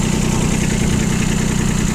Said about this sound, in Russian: Трактор работает достаточно ровно